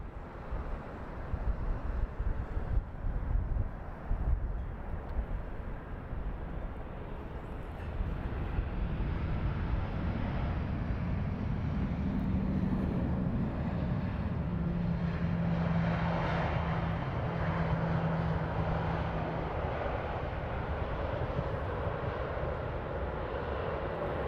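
An Austrian Airlines airliner landing at London Heathrow, with a loud, sustained jet engine roar that rumbles near and broad before settling into a steady whine and rush as it passes over the threshold.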